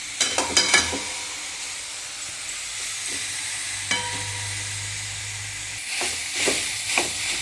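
Grated carrot for gajar halwa fries in a pan and is stirred, with a soft steady sizzle broken by spoon scrapes and clinks against the pan, louder stirring toward the end.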